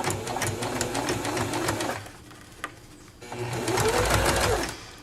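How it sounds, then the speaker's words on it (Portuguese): A domestic sewing machine stitches slowly around a curve while sewing a small wallet, its motor running steadily, pausing briefly in the middle, then whirring again at close range. "nessa voltinha, gente, a gente tem que costurar bem devagarzinho pra que a nossa costura fique legal"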